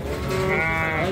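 A white goat at an Eid al-Adha livestock market in Saudi Arabia gives one loud, close, drawn-out bleat that lasts about a second, with no talk over it.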